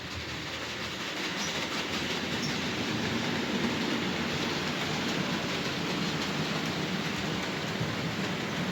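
Model railway tanker wagons roll along the track in a steady, fairly quiet rattling rush of wheel noise that carries on unbroken with no voices.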